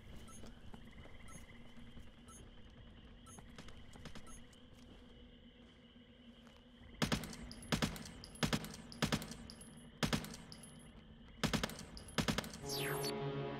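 Bursts of automatic gunfire from the Interstellar Marines video game, several quick rattling volleys in close succession over steady background noise, loud and near.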